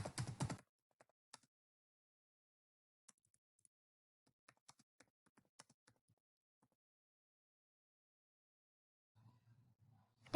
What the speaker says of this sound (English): I'm typing some information in this.